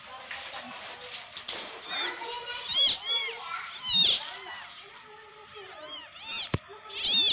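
A newborn Persian kitten mews at birth with a series of thin, rising high cries, some close and loud, scattered across the stretch amid rustling and soft background sounds.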